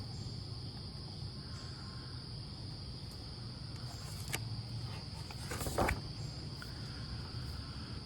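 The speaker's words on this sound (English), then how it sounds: "coughed a cricket who'd seen Gerald earlier on" Crickets chirp in a steady, faint, continuous trill through the whole stretch, with a brief rustle or scrape partway through and no voices.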